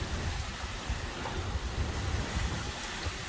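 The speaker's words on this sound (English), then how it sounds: "There's about 30, 40 mile an hour winds right now." Strong Category 1 hurricane winds of about 30 to 40 mph roar continuously outdoors, a loud, dense rushing noise with gusty buffeting against the microphone and no pauses.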